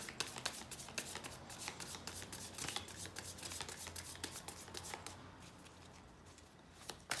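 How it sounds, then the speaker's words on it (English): Tarot cards being shuffled by hand, a close, quiet run of rapid riffling flicks and soft slaps repeating steadily, with no talking. "Last shuffle, then I take from the middle."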